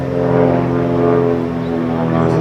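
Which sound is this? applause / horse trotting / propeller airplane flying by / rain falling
propeller airplane flying by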